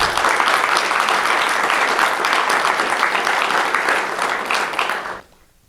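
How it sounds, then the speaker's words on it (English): A room of guests at a college donor appreciation and scholarship celebration gives a sustained round of applause, dense and steady, then fading out abruptly near the end. "Can we give them a round of applause, please?"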